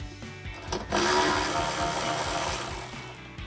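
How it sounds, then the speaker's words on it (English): A ratchet fitted with a 13 mm socket spins off the lower hinge mounting bolt on a 2021-2024 Ford Bronco 4-door, giving a dense, continuous mechanical whirring rasp that starts loud and close after a short lead-in and fades slightly toward the end. "we'll grab our 13 mil socket on our ratchet and go ahead and pop that off"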